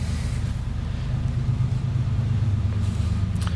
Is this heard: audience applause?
no